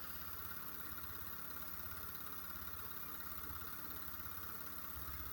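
A bench grinder's single-phase PSC motor turning slowly on a 120V VFD gives a low, steady drone with a faint periodic throb, quiet and continuous without any talk.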